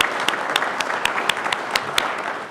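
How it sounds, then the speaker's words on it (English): An audience at a Pennsylvania Talent Pipeline Signing Day event in Pittsburgh applauds, producing a dense, steady wash of clapping with a few crisp individual claps popping out near the listener. "Now please join me and offer a round of applause for these facilitator partners"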